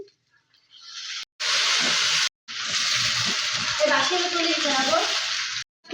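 Potatoes sizzling in a hot pan with tomato and ginger paste, a loud steady frying hiss broken by brief pauses, with stirring sounds beneath.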